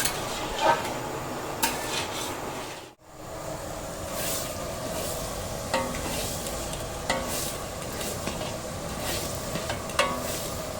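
Taro leaves (kochu shaak) with turmeric stirred continuously in a pan, steady frying sizzle with repeated scraping strokes and light utensil clinks, a short break near the start, no voices.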